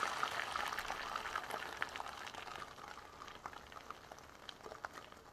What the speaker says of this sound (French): Mon huile bien chaude, je viens rajouter mes œufs bien battus à l'intérieur.